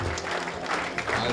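Congregation clapping hands during a charismatic church service, a dense steady patter of applause with murmured voices and faint speech mixed underneath.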